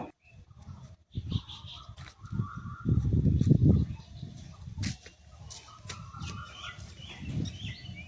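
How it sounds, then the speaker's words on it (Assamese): Birds chirp and twitter in the background, light and intermittent, over low rumbling outdoor noise and occasional knocks. "চৰাই চিৰিকটিৰ মাত।"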